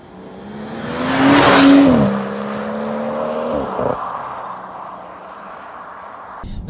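A BMW M760Li with a twin turbo 6.6 litre V12 revs up to a loud peak, its pitch rising and then easing down, and it settles into a steady hum before a brief knock at the end.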